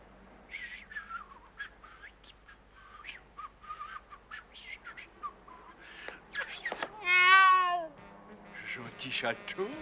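A cartoon cat meows in a high, wavering, drawn-out wail that rises loud near the end, mixed with squeaky vocal sounds and people talking.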